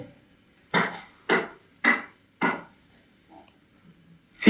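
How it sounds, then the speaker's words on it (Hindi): Rough scraping, like fingernails dragged across a concrete wall inside a house, comes as four evenly spaced loud rasps, then a quiet gap and a fifth rasp starting at the end, with no voices. "ये नाखूनों की आवाज है।"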